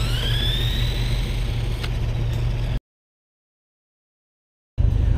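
Two toy RC cars, a New Bright Badzilla and a Tyco Fast Traxx, racing, with a steady loud motor whine and a rising pitch. The sound cuts to silence midway, then the whine returns abruptly.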